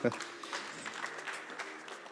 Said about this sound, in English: let's appreciate them with a round of applause